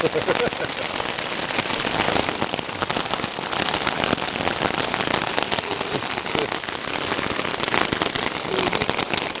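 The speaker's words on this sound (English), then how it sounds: "It's raining a little harder now." Heavy rain drums hard and continuously on a taut tent surface close overhead while backpacking in Glacier National Park, a dense crackling patter with no pauses.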